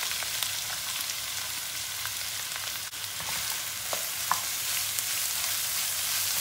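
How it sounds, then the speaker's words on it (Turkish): Plenty of chopped onion sautés in heated oil in a pan, giving a loud, steady, close-up sizzle with a few soft stirring clicks, for an onion stew. "Soğanımızı iyice bir kavuracağız."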